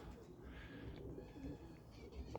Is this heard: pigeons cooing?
yes